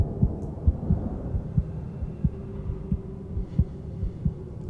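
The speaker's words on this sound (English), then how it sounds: "I love the heartbeat sound effect that's just playing in the background." Heartbeat sound effect from the horror film Insidious: steady, evenly spaced low thumps, about ten beats, laid over a dark ambient hum with no one talking.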